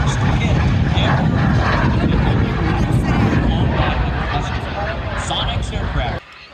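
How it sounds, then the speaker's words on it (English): An airplane at the Dayton Air Show roars loud and close as a steady, powerful engine drone with a rumbling low end, then drops off sharply near the end; a voice speaks over it. "Let's talk about that airplane"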